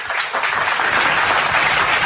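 An audience breaks into dense, loud applause, a continuous wash of clapping that fills the whole short moment without pause.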